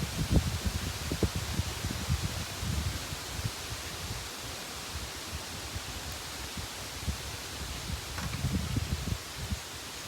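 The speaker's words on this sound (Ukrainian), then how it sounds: "Вітер капець, самі бачите, що дує просто." Strong wind buffets the microphone with low rumbling gusts over a steady broadband hiss, surging and easing throughout, during a fishing trip in a severe storm.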